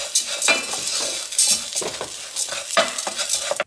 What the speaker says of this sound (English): Don't let the garlic burn, so it's a quick saute